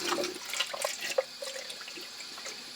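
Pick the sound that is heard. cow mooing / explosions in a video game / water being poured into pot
water being poured into pot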